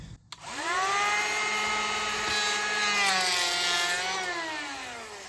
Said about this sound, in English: I have the planer on the lowest setting.